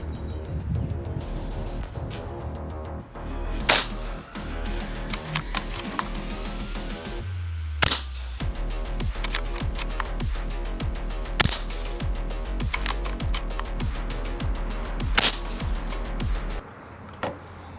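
Air rifle firing Crosman 14.3 hollow point pellets at a splatter target 65 feet away, about four sharp snapping shots spaced apart over low background hum, no voices.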